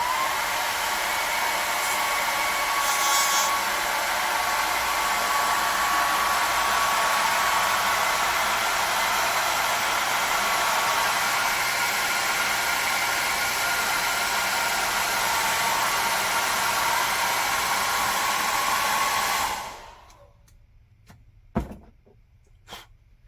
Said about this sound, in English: we're going to try a hairdryer glycerin smoke test.